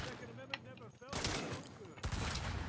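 Gunfire in the Saints Row game crackles in rapid bursts, with a louder volley starting midway and another near the end, under a voice.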